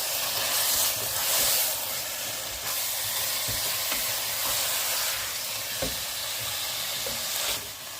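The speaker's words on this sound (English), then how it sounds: "the onions are frying very nicely. So I'm going to add the mince" Steady loud sizzling of lamb mince and onions frying in a hot pan, with occasional stirring scrapes and crackles, close up.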